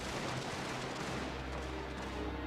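Massed rifle volleys and musket fire crackle through a strategy game battle, a dense, continuous rattle of shots layered over low rumbling, steady and fairly loud with no voices.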